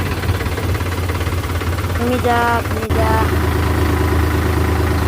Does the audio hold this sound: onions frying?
no